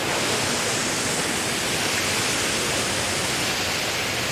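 A roadside waterfall along a Kentucky backroad, a loud, steady, broadband rush of falling water filling the whole stretch without a break.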